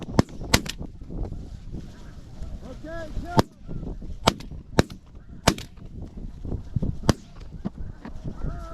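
Shotgun blasts at snow geese during a hunt: about eight sharp, loud shots crack at irregular intervals over a constant background of honking geese, with brief nearby voices in between.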